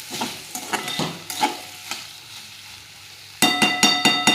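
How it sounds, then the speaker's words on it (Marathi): Soybean keema with potato and cauliflower curry, topped with coriander, is stir-fried in a pan: repeated scraping stirs over a light sizzle, pausing briefly before a louder burst of brisk stirring near the end. "तर वरून कोथिंबीर टाकून देते, आणि आपण आता परतून घेऊ थोडी"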